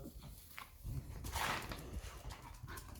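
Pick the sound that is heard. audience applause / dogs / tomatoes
dogs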